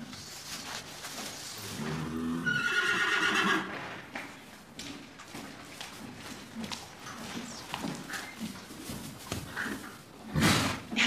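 A young stallion neighing in a stable, a loud whinny early on followed by shuffling hooves and stable movement, with another snort or neigh burst near the end, close by.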